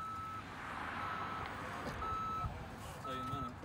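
A forklift's reversing alarm beeps at a steady pace with long gaps between tones, heard over engine rumble and a bit of background noise.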